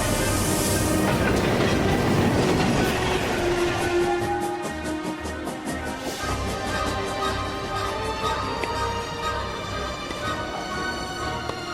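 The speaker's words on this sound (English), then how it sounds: "Tout le monde à bord du train bleu. Départ Gare de Lyon pour Monte-Carlo." The Blue Train pulls out of Gare de Lyon bound for Monte-Carlo: a loud burst of steam hiss at first, then a steady rhythmic chugging and rolling rumble of the departing train.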